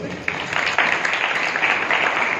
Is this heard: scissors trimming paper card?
no